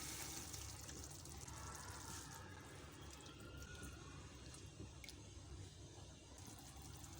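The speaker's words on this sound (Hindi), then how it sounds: "1/4 कप पानी डालूंगी।" A quarter cup of water is poured into a pan of okra masala with softened tomatoes, giving a faint, steady splashing trickle that runs for several seconds.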